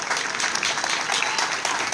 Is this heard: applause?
yes